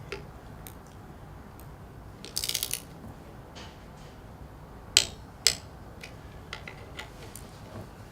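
Several sharp, distinct clicks from a Hammond organ part being snapped into place, with a small rattling burst early on. The clicks are close and isolated, over a quiet room background.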